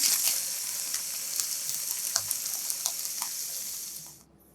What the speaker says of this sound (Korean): 양배추가 숨이 죽으면 대파, 기름 뺀 참치 100g을 넣고 휘뚜루마뚜루 섞어주고 불을 꺼주면 간단하게 완성입니다.